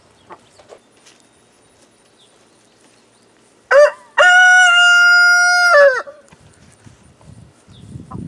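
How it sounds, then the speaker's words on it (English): A Rhode Island Red rooster crows once, a loud, close, drawn-out cock-a-doodle-doo of about two seconds, set against a quiet farmyard with faint clucks and scratching before and after. "every once in a while, Big Red will give us a nice big"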